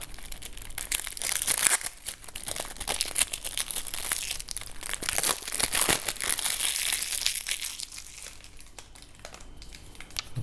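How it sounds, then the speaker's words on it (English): Plastic wrap is peeled and crinkled off a brand new deck of playing cards, with continuous close crackling and crumpling that eases slightly toward the end. "We're going to just remove all of the plastic,"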